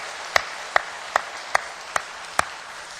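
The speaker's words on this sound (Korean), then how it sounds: "우리 하나님께 한번 큰 영광의 박수 한번 올려드립시다" A church congregation claps in steady unison during a worship service: six sharp, evenly spaced claps about a beat apart, crisp and fairly close, with no voices over them.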